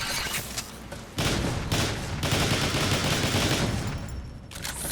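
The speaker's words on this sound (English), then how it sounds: "his default weapon is the Neutron Assault Rifle" Neutron Assault Rifle fire in Transformers: War for Cybertron, a dense, loud stream of rapid energy-weapon shots in sustained bursts, with a brief drop near the start before the firing resumes and carries on steadily.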